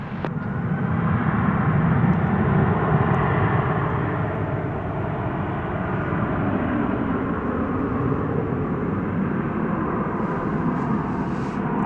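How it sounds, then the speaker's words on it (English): A steady, loud jet-engine roar from an American Airlines Airbus A321 airliner taking off at night at DFW holds without a break for the whole stretch, with no voices. "You may hear it in the background. That's American Flight 1381 going to Fresno"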